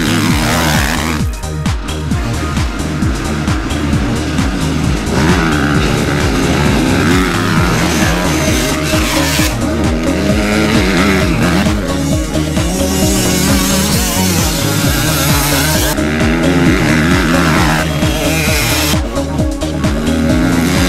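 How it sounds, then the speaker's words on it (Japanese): Motocross motorcycles roar through a practice run at Kanazawa Motoland, a loud, continuous engine drone with revving, rising and falling pitch as bikes pass close by. "いよいよ練習走行開始です。"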